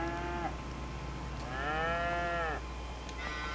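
Cattle moo in Farming Simulator 25, several long drawn-out lowing calls in succession over a low steady farm hum, close and clear.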